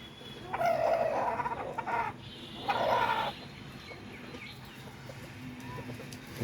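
Fayoumi chickens on a rooftop where they are kept, clucking in two louder bursts early on, then softer scattered calls against steady background noise.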